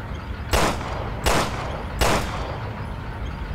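Three loud gunshots spaced roughly evenly apart, each a sharp burst with a short decaying tail, fired at tanks in the survival horror game Resident Evil Revelations 2 over a low background hum.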